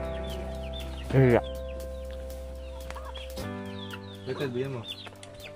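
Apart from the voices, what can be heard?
chickens clucking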